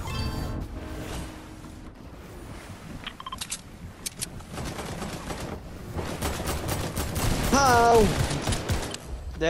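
Gunfire bursts in a Fortnite Season 5 match, several shots and short volleys scattered among game sounds and voices, with a busier stretch near the end as players talk over the action.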